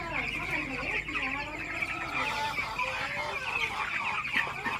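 A flock of broiler chicks clucks and cheeps steadily and continuously, a busy chorus of overlapping calls close by.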